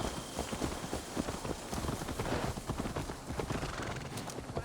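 Horse hooves clip-clop steadily in Assassin's Creed Valhalla, a continuous run of close, rhythmic footfalls with a whinny in the mix and faint rain-like game ambience beneath.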